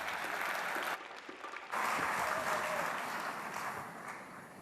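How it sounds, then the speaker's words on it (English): Audience applause, with some ululating, for Rob Shooter of MTN Group as he comes on stage at a business partnership event; sustained dense clapping with a brief dip, moderately loud and steady throughout. "as you continue to ululate and applaud Mr."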